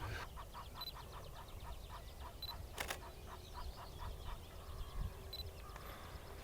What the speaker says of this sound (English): maybe you can hear them, but just a minute ago, 2 geese just flew into this little pool